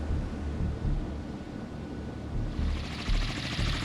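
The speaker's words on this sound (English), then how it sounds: "Above the invasion fleet, a helicopter from Gromyashichi. The helicopter is a Kamov K-25, NATO reporting name Hormone." A Kamov Ka-25 Hormone helicopter flies over a naval invasion fleet in a Sea Power video game, a low, throbbing rotor drone under steady wind-like noise that brightens toward the end.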